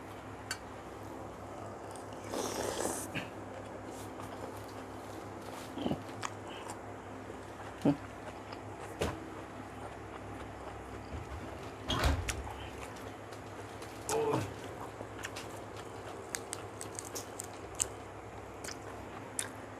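Someone eats khanom jeen nam ngiao, a northern Thai rice-noodle dish with pickled mustard greens, long beans and plenty of fried garlic, making soft close-up biting, chewing and slurping sounds in scattered bursts against a quiet background.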